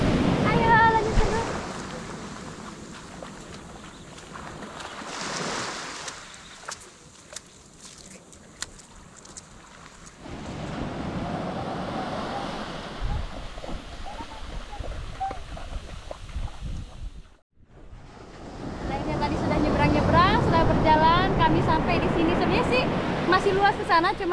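Waves washing ashore at Bugel beach in Pandeglang, Banten, heard close with wind buffeting the microphone, surging and receding in long swells with a brief lull midway, while people talk over it.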